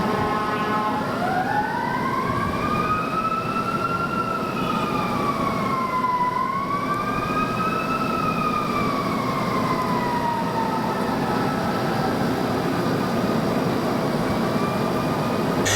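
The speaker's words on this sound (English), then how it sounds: "So just have a look at these sirens." Emergency vehicle sirens wail in long, slow rising and falling sweeps, moderately loud but somewhat distant, over a constant broadband hiss of traffic or room noise.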